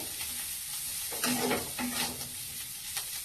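Potato poriyal seasoned with sambar powder sizzles in a pan while a spatula stirs and scrapes it, giving a few soft clinks over a steady frying hiss.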